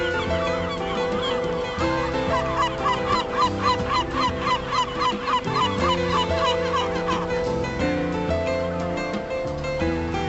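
A large flock of birds calls continuously at a coastal nature reserve, with overlapping honking cries rising in a dense burst mid-clip over a steady tonal backing.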